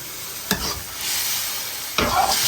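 Spatula strokes stir a braising fried chicken skin stew in a wok, two sharp scraping sweeps over a steady close simmering sizzle, with no voices.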